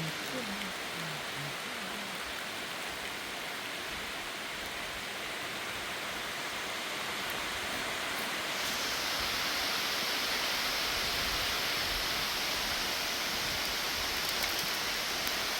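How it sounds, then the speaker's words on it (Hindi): Heavy rain pours steadily in a forest, a dense, continuous hiss that swells louder partway through, broad and enveloping with no break. "देख ही रहे हैं आप कितनी तेज़ बारिश हो रही है।"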